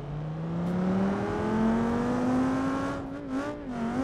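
A car in BeamNG.drive accelerating hard, its engine note climbing steadily in pitch as it builds speed and then wavering briefly near the end, loud and close with no talk.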